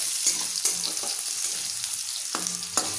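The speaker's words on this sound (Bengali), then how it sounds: "এবারে একটু আলুটা ভাজতে হবে" Potatoes frying in a pan for a banana flower curry, a steady close sizzle with soft stirring scrapes breaking through now and then, no voices.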